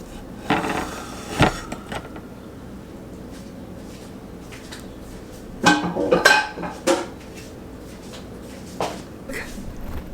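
A stovetop pizza being lifted out of a pan in a home kitchen: scattered metallic clatters and knocks of pan and utensils, with a burst near the start and a busier cluster midway, over a quiet room.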